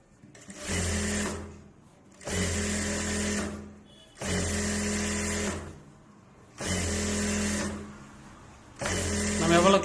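Sewing machine running in five steady bursts of stitching with short pauses between, close and loud, while it hems the bottom edge of a small knit dress for a two-year-old child.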